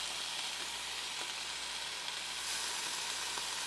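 Pieces of chicken satay set directly on a hot Ninja Foodi grill sizzle with a steady, even hiss and faint crackles, close and continuous, with no talking.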